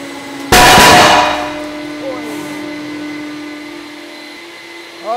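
A sudden loud crack and crunch bursts out as a hydraulic press crushes a large obsidian ball at about 60 tons, then fades into a low steady mechanical hum with faint creaks.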